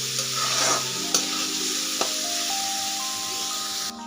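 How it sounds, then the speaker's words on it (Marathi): Onion is sautéed in oil in a pan for kanda poha, giving a steady, close sizzle with the occasional clink of a spoon stirring against the pan. No one talks. "एकदम मऊ होईपर्यंत इथं कांदा छान आता परतून घ्यायचा आहे."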